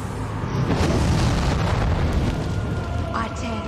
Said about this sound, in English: fire from the pit!